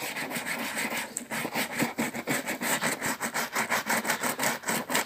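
Brush scrubbing along the seams of a leather shoe during shoe care, a steady run of close, rhythmic rubbing strokes with dense bristle friction.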